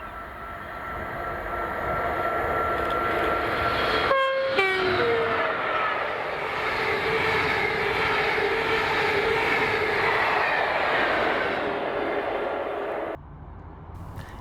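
A locomotive-hauled train led by class 86101, with 87002 on the rear, rumbles past loudly and steadily, and the horn gives a short two-tone blast early on before the passing roar cuts off.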